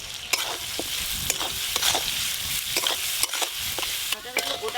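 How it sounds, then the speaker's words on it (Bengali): Whole onions and ripe local tomatoes frying in a pan, a continuous sizzle broken by repeated scraping strokes of a spoon stirring them, close and fairly loud. "গোটা গোটা পেঁয়াজের সঙ্গে একসঙ্গে ভালো করে ভাজা করব।"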